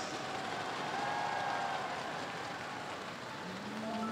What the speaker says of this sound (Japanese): 温かい拍手ありがとうございます。